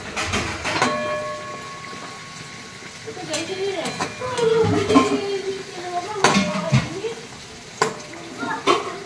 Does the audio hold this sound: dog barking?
no